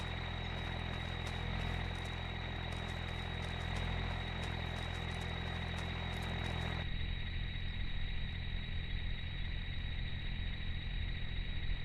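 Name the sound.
truck engine idling in video game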